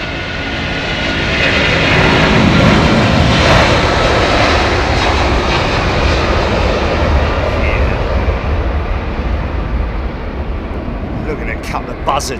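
An airliner climbing out of London Heathrow with its gear retracting produces a loud, sustained jet roar that slowly fades, with a voice talking over it.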